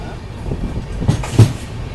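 Panchaganga Superfast train at Barkur station on the Konkan Railway, heard as a low rumble with a few clanking knocks of wagons over about two seconds, fairly close, with a louder thud near the end.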